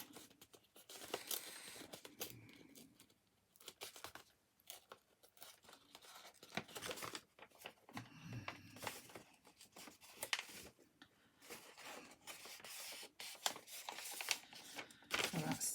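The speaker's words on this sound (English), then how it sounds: "I've just got a funny shaped little bit here that I'm just going to tear off" A small, odd-shaped scrap of paper is torn off by hand while decorating a junk journal cover, giving quiet, close, intermittent crinkling rips and rustles.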